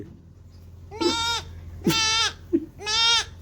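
A voice imitates a goat, giving three wavering, nasal bleats with short pauses between them, close and fairly loud.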